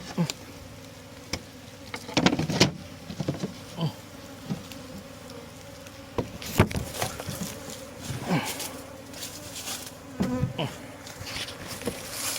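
Bees buzzing around their hive as they begin settling into it, a close, dense drone with louder passes as individual insects fly near, rising and falling throughout.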